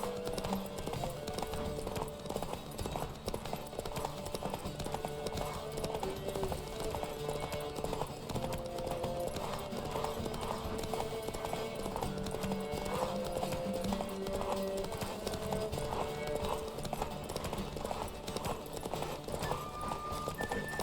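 Hoofbeats clip-clop in a rapid, steady galloping rhythm throughout, with music and occasional voices layered over them, from a horse in The Witcher 3: Wild Hunt.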